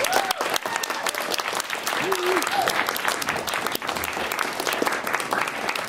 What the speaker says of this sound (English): I'd like everybody to give a round of applause for all the panelists that we had tonight